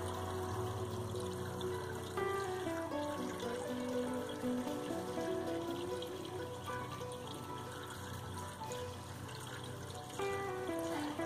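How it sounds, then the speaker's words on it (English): Water pours steadily through a funnel into a narrowboat toilet, a continuous trickling fill with gurgling tones that shift in pitch as the level rises, close up and with no talking. "there's still a bit more space for plenty of water to go in"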